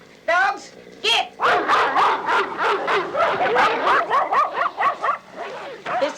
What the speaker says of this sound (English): Dogs, get!